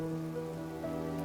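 Heavy rain falling steadily, a dense continuous hiss and patter on surfaces, with a faint tonal hum beneath it.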